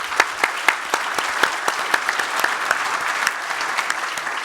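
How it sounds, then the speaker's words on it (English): An audience at a conversation event with a U.S. senator claps steadily throughout, a dense patter of hands with a few sharper, louder claps standing out. "they deserve a huge round of applause as well"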